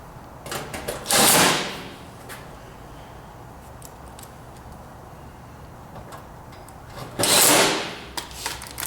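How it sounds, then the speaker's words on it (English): A cordless driver whirs in two short bursts, seconds apart, driving a pair of screws back into a clothes dryer during a heating-element repair, the motor sound close and loud with quiet handling noise in between. "Put the two screws back."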